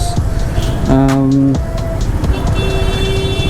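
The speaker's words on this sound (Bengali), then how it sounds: "আসলে কুষ্টিয়া শহরে অনেক জ্যাম আর অনেক নয়েজ।" Busy street traffic in Kushtia city passes nearby, loud engine rumble with a sustained horn blast mid-clip and another tonal horn later, amid general road noise.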